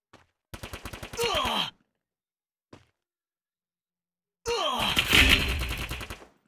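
Gunfire in the Free Fire video game, where an AWM sniper rifle is in use: a rapid rattling burst, a brief lone pop, then a long loud blast with a rough tail, separated by silence.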